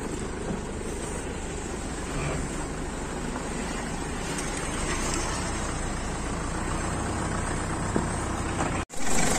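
A 2008 Mitsubishi Triton engine idles steadily with a slight misfire, suspected from a fuel injector problem, giving a continuous rough, even drone close to the microphone with no talking, ending in a brief dropout.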